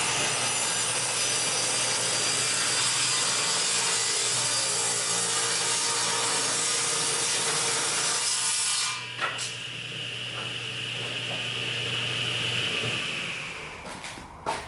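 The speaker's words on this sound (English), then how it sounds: "Now I'll run the cleat through the table saw for its final width." A table saw rips a wooden cleat to final width, a loud steady whining cut for about nine seconds, then the blade spins freely and winds down with light knocks at the end.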